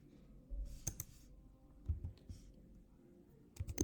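Keys tapped on a computer keyboard, giving a few quiet, sparse clicks in short separate bursts over low room hum.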